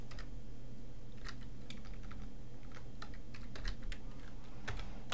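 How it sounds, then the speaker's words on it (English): Rapid typing on a computer keyboard, a close run of light irregular key clicks over a low steady background hum. "So we're going to type in a title,"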